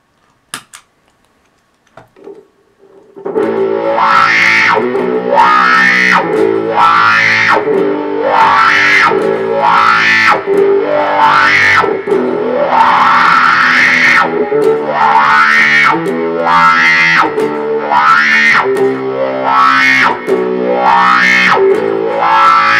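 Electric guitar trick effect played with boosted gain distortion, a loud repeating pattern of swooping, sliding notes with a buzzing, saturated tone, starting after a brief quiet pickup and continuing steadily, alone.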